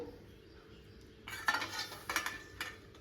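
A utensil stirs pumpkin, spinach and other leaves in a pot of mixed-leaf curry, producing a few soft scrapes and light metallic clinks over a quiet low hum, close and gentle.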